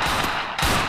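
Rapid gunfire from Free Fire Max, a loud, dense burst of shots filling the whole moment with a brief dip midway, alone without talk.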